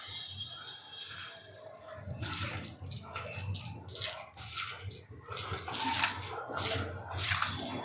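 Water is poured and splashes into a bowl of dough being kneaded by hand for rotti, a close wet sloshing and squelching with bursts of louder splashing.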